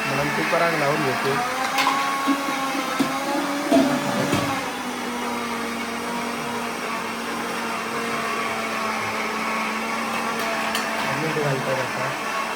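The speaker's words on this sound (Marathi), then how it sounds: "कुकरा आणि मिक्सर चालू आहे" A mixer grinder and a pressure cooker running together in a home kitchen, a steady whirring motor drone throughout, with voices talking over the first few seconds.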